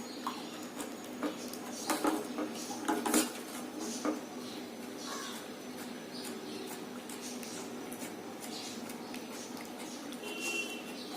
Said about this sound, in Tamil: மிக்ஸ் பண்ணிட்டே இருங்க